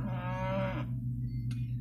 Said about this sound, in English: There's cows and sheep in the next field.